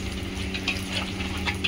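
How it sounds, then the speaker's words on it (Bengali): Chicken pieces frying in hot oil for mutton pantheras: a steady, close sizzle with soft bubbling crackles throughout. "চিকেন ফ্রাই ছাড়ছে দাদা।"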